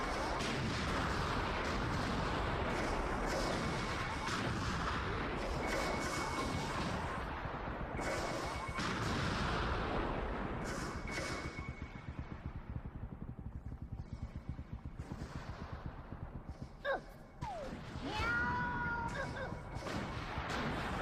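Rumbling explosions in Oddworld: Munch's Oddysee boom repeatedly in heavy, overlapping bursts, then thin out to scattered thuds and a few sharp electronic effects near the end.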